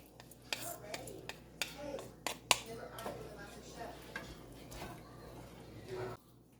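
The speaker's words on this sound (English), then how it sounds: "Then I'm just going to go ahead and add my rice as well" Rice is added to a pot for rice pudding and stirred, with clinks and scrapes of a utensil against the pot, sharp taps and soft rustling close by amid faint background noise.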